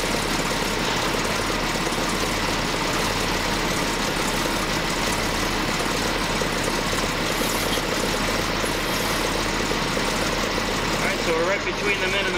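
A Jaguar engine idles to warm its transmission fluid in a repair shop, a constant low rumbling hum with steady mechanical ticking while someone talks over it.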